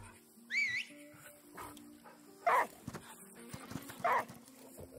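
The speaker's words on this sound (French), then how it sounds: "on va appeler mon chien ici" A dog barks twice in the video game Last Day of June, short sharp yelps amid a faint whistling tone and quiet game ambience.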